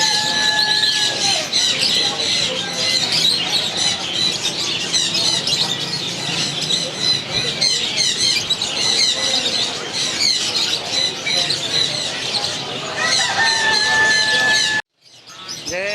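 China chickens and other caged birds at a crowded bird market, a constant dense din of squawks, squeals and chirps, loud and close, cutting off abruptly near the end.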